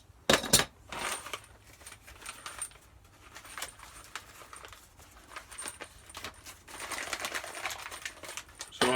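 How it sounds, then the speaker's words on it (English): Ratchet pipe cutter snapping through plastic supply pipe while a frost-free spigot is being installed, giving a run of sharp, close clicks and light metallic ticks in uneven bursts, with no talking. "It's a ratchet. Just cuts it right off nice and clean."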